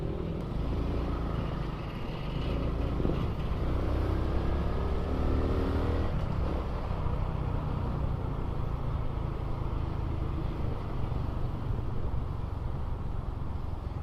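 Honda XRM 125 motorcycle engine running steadily with a constant low drone and mechanical rumble, fairly loud and close, no speech over it.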